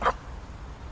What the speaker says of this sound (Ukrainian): Це мій пес Баді. І ось так ми тренуємось.